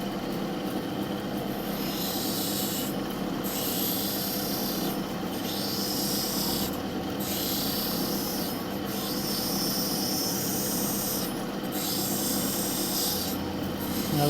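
A fused glass cabochon grinds against a spinning lapidary stone wheel, a steady harsh rasping hiss that holds throughout, broken by short regular surges as the piece is pressed and lifted.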